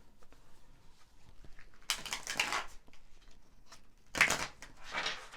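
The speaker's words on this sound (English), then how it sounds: "I feel like I need to shuffle again." A deck of tarot cards is shuffled by hand in two quick, crisp bursts of riffling close by, separated by near silence and faint handling noise.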